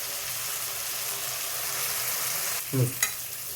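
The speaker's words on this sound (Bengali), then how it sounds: "ঝাল হওয়ার জন্য দিয়ে দিচ্ছি লঙ্কা" Kashmiri chillies fry in hot spices with a continuous even sizzle, broken near the end by a short clatter of stirring.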